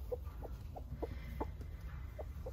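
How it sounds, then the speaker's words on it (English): A hen clucks in a coop shared with other hens and a big rooster, giving a quiet series of about eight short, evenly spaced clucks at close range. "So the other hens are in the coop with the new big rooster, El Carpintero."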